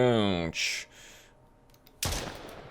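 A gunshot in a horror-style video game, a sudden loud blast that cuts in abruptly after a brief stretch of someone talking and some quieter game sounds, ringing out close and full.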